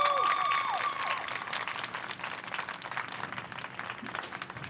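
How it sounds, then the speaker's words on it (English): An audience breaks into applause for a speaker at a Kente presentation celebration, loud at first then thinning slightly, with a brief high whistle-like tone near the start. "can we please give her a round of applause?"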